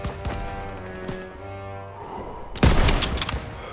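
Gunfire rattles in a Call of Duty WWII street battle, scattered shots under a music bed followed by a loud, sharp burst of rapid fire near the end.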